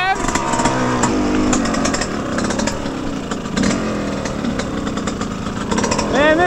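An off-road motorcycle engine revving and droning at an OHV riding area, loud and close with rising and falling pitch, while someone talks over it.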